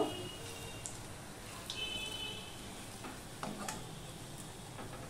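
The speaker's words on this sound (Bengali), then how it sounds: "নেড়ে চেড়ে আমি এগুলো ভেজে নেব।" Jackfruit kofta balls sizzle steadily in hot oil in a pan, with intermittent scraping stirs and small bubbling pops, heard close and alone without talk.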